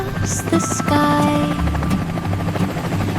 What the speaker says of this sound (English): A little helicopter flew so high and bounced on clouds across the sky.